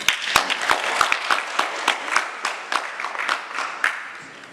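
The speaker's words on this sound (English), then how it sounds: "we welcome him here with a round of applause" A school audience of parents and students applauds to welcome a speaker, a brisk patter of many hands with sharp individual claps standing out, fairly close and steady before thinning slightly toward the end.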